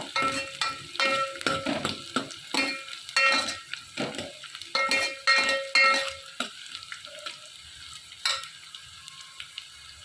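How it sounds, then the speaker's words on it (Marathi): Chopped onion sautéing in a pan for a South Indian sambar, with bursts of sizzling and repeated scraping, clacking stirs against the pan, fairly close, no talking. "कांदा थोडा चांगला परतवून घ्यायचा"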